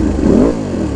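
A Ducati Panigale V2 fitted with a Vandemon full exhaust and dB killers revs up close, a loud rising engine blip that peaks and then drops back to a rough, steady idle.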